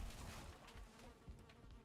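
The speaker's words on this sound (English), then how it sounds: "I want to take those bees down, but I really don't want to get killed while doing that." Insect buzzing from bees in the video game Valheim, a faint, steady drone with a few louder swells, heard alone with no talk.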